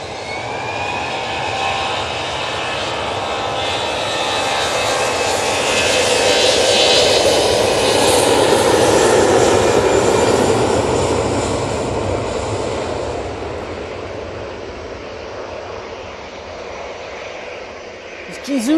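Jet engines of an Airbus A321neo airliner at Manchester Airport roar loudly and close, building to a peak around the middle and then fading, with a rising whine early on and people talking over the noise.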